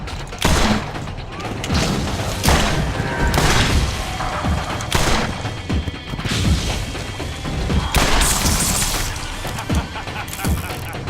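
Gunfire aimed at the player in the video game Borderlands, a busy run of crashing shots and impacts over about eleven seconds, loud and dense, mixed with game sounds.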